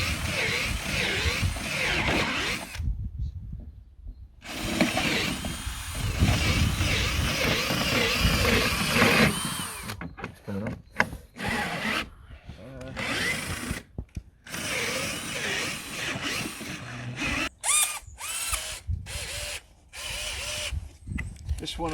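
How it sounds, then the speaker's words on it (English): A power drill bores down through timber decking to fix a glass windbreak, whirring in long sustained runs with short pauses and stop-start bursts in the later half, close and fairly loud. "now I'm going to drill down all the way"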